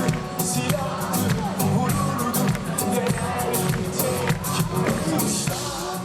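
Dense crowd of thousands at a concert in Bodrum Ancient Theatre, a steady loud wash of audience noise and babble with music underneath, continuous throughout.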